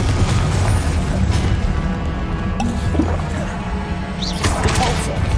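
Confringo fire-blast spells burst in Hogwarts Legacy, dull booming pops rising from a busy, rumbling game soundscape while a voice talks along.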